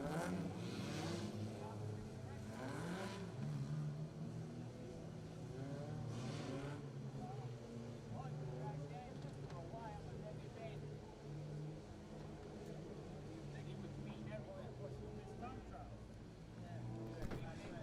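Mini stock race cars running laps on a raceway during qualifying and heats, a steady drone of engines revving and passing beneath continuous announcer talk over the loudspeaker.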